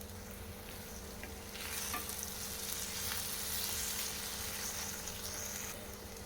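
Eggs frying for egg fry in a covered pan give a steady, moderate sizzle that swells slightly in the middle and holds throughout, with no talking.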